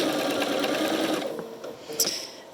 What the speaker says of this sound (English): And then we'll just top stitch our pocket.